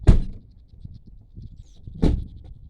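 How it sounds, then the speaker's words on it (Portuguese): Two car doors slam shut at an old country farmstead on a hot afternoon, each a sharp, loud thud about two seconds apart, with quiet outdoor ambience between them. "Bate porta. Bate porta."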